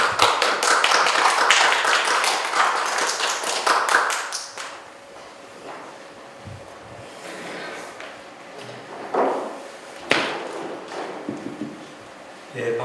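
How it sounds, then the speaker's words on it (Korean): An audience at a lecture forum on the May 18 Gwangju uprising claps to welcome a professor to the stage, a burst of applause lasting a few seconds that then dies away into scattered thumps and room noise. "박수로 모시겠습니다"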